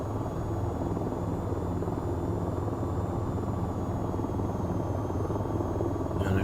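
Attack helicopter in the flight game VTOL VR, its rotor and turbine drone steady and loud throughout a cruising flight over desert, with no voices.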